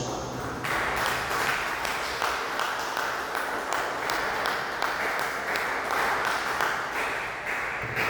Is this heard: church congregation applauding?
yes